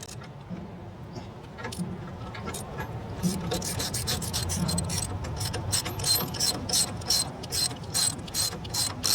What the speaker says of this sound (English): This is a 9/16 wrench, and I'm just going to take this off right here.